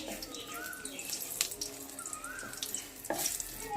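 Whole cardamom, cloves, cinnamon, cumin and bay leaves crackling in hot oil, a fairly faint, uneven sizzle with a few sharper pops and a louder burst near the end.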